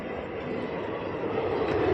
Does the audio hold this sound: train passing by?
yes